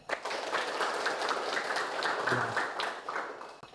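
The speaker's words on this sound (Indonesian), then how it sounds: "Bapak minta kalian tepuk tangan semuanya." Schoolchildren in a classroom clap their hands together, a dense, bright patter of many small hands lasting a few seconds at moderate volume, fading out at the end.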